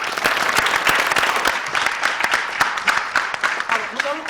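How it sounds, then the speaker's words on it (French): A studio audience claps together in steady, dense applause on a Burkina Faso television show, sustained at a fairly loud level throughout, honouring the country's security forces. "on va vous applaudir pour cela"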